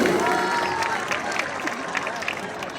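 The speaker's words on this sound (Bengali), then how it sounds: "আমরা দেখতে পাচ্ছি লোকাল ভাই আব্দুল্লাহর জন্য একটা জোরে করতালি" Loud, steady applause and crowd noise from spectators at a quarterfinal football match in Charbagdanga, greeting local Chapainawabganj district player Abdullah as he takes the field, a dense wash of clapping lasting throughout with faint babble underneath.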